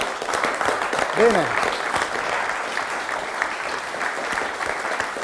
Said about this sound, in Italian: Adesso potete applaudire.